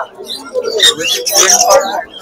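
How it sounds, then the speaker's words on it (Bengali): Lovebirds chirp and tweet in quick bursts, fairly close, at a pet bird market, with a person talking over the chatter throughout. "আচ্ছা এখানে লাভবার্ড রয়েছে, এখানে দেখে দিচ্ছি"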